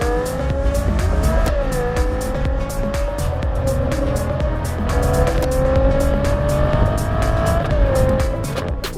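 Ferrari Monza SP2 with an 810-horsepower V12, a loud high-revving engine note climbing through the gears with brief tire squeal, sustained and close with no speech.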